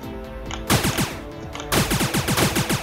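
Rapid bursts of gunfire from a weapon in the Starbound video game, with two volleys of repeated shots in a quick, even rhythm, loud and close with no talking.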